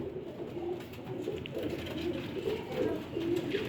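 Old-breed pigeons coo softly in a continuous low murmur, several birds overlapping at a modest level with no talk.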